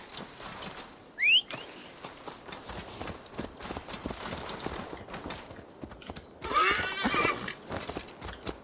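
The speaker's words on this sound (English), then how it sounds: "let's get our horsey" A horse in a Viking-era open-world game gives a sharp neigh, then trots with rapid hoofbeats, and a second, longer whinny rings out near the end over light ambient noise.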